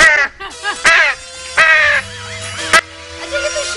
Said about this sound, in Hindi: ये तो कौवा कहाँ से आ गया?